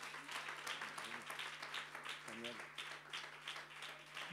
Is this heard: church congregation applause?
yes